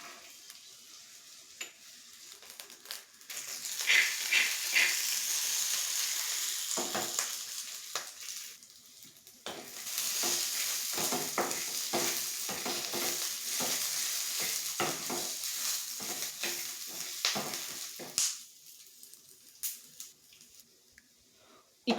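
Peanuts, garlic and green chillies dry-roast in a pan, giving a crackling sizzle that rises and falls across the clip, broken by stirring scrapes and a brief quieter pause midway.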